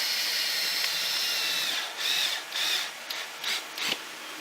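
A power drill whirs in short bursts, drilling through a board into PVC pipe, its high motor whine rising and dropping as it bites into material, with a steady hum between pulses.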